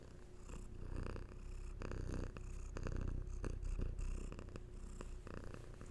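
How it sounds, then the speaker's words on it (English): A cat purrs up close, a soft rhythmic rumble that rises and falls with each breath, continuing steadily with no voices. "she brought the purrs that time"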